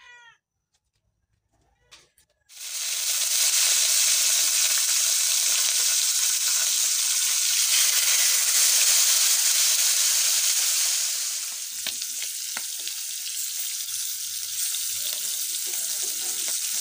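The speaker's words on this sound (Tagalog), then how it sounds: "Iprito na naman natin guys." Paksiw fish dropped into hot oil in a pan flares into a loud, bright, continuous sizzle after a quiet start with faint cat-like cries, then settles slightly softer with small crackles and clinks.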